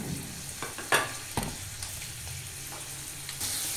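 Fenugreek seeds drop into hot oil for a homemade hair oil and set off a close, soft sizzle. A few sharp spits and stirring clatters rise over the steady frying hiss, with no talking.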